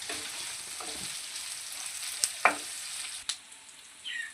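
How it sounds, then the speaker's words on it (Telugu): Dried red chillies fry in a pan with a steady, faint crackling sizzle, broken by a couple of brief louder pops and clicks from stirring, no voices. "నాలుగు ఎండిన మిరపకాయలు అయితే వేసుకోవాలి వీటిని పచ్చివాసన పోయే వరకు అయితే ఫ్రై చేసుకోవాలి"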